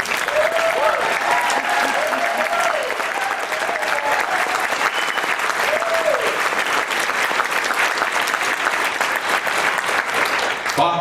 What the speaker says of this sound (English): Come on, I want to hear a proper round of applause.